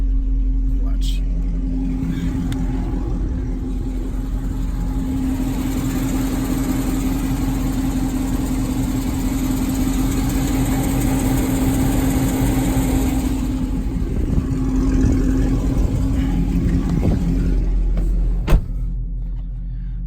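A lowered car fitted with Corsa longtube headers idles with a steady, deep, throaty rumble that holds even throughout, ending with a brief sharp click.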